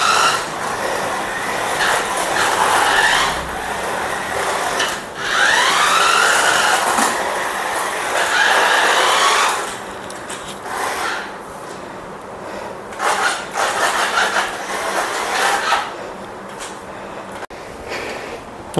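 A small RC toy car drifts across a surface, giving a continuous scraping, rubbing whir from the tyres and motor that swells and fades over several passes, fairly close.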